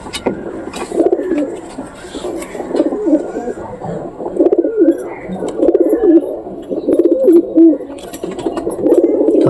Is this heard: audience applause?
no